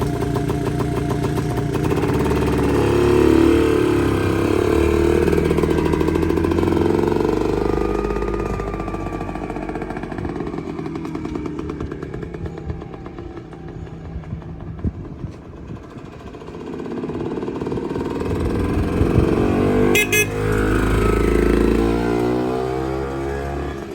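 A 1954 Fuldamobil NWF 200 microcar engine running loud and close for a long stretch, its buzzy note rising and falling as it drives by, easing briefly, then swelling again.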